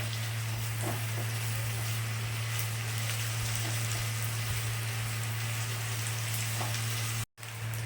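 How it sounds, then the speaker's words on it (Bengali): Ginger and garlic frying in a pan for potato curry make a steady, dense sizzle with a low hum beneath it, close and continuous, briefly cutting out near the end with no talk. "আদা আর রসুন এর মধ্যে দিয়ে দিতাম দিয়ে ভালো করে ভেজে নিচ্ছি"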